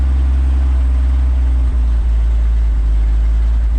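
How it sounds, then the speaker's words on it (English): A 1962 Ford F600 truck engine warming up at idle, a steady loud low rumble close by with a couple of slight stumbles where it misfires, no talking. "It starts misfiring a little bit."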